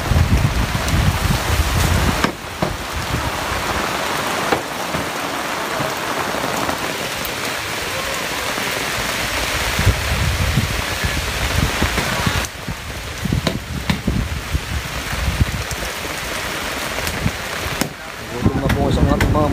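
Heavy rain pours steadily and loudly during rambutan picking in Batangas, drumming on surfaces with gusts of wind, occasionally easing before surging again.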